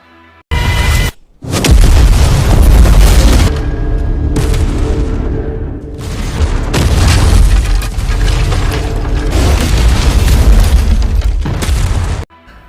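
A bomb-filled warehouse explodes in an action film, a run of loud, heavy booms and rumbling blasts that fill most of the stretch, broken by brief near-silent gaps, with no talking.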